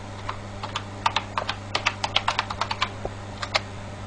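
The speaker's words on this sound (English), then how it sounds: "Let's type it in here." Keystrokes on a computer keyboard, a quick irregular run of about two dozen crisp clicks over a steady low electrical hum, close and fairly quiet.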